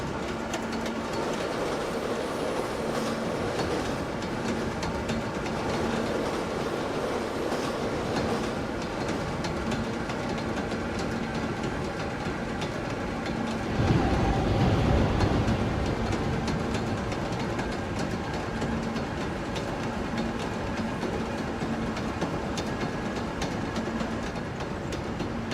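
An R160 subway train in the OpenBVE simulator on a J line run, a continuous rumbling ride with rhythmic rail clatter and a louder swell midway.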